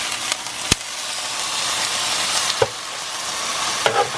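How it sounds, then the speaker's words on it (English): Turkey sizzles steadily in a hot pan for a chopped cheese sandwich in an RV kitchen, a loud close frying hiss broken by a few sharp utensil clicks. "I'm going to go ahead and start flipping over our turkey."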